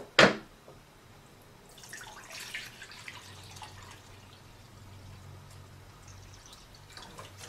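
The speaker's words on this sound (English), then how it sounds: "And then we're going to add another 4 cups of water." Water pours into a pot of chicken cilantro soup, beginning with a sharp clatter and then settling into a soft, steady trickle and splash that continues faintly to the end.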